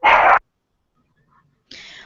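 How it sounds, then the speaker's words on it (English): A dog at an airport gives two short, loud barks close by, separated by more than a second of near silence. "Whose dog is that?"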